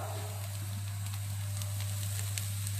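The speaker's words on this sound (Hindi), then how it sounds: "ये जो पालक है लगभग भून चुका है" Spinach sizzles as it is sautéed in a pan, a steady close frying hiss with faint crackles, set over a loud, constant low hum.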